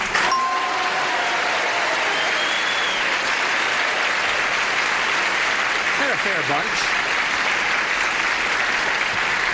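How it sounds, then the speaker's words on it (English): A studio audience at a 1975 television game show breaks into sustained applause, a loud, even roar of clapping that carries the whole stretch, while someone speaks briefly over it. "Then I would like applause"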